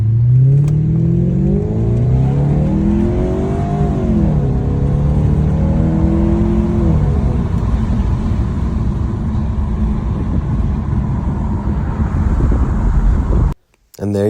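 A Volkswagen Phaeton in sport mode revs hard. The engine pitch climbs, dips and climbs again over several seconds, then settles into a loud, steady drone before cutting out briefly near the end.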